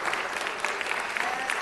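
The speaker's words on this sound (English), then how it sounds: "Can we please give Coach Ed a big round of applause?" Audience applause at a city council meeting for an award-winning coach, a short, steady burst of clapping from a seated crowd, fairly loud and close.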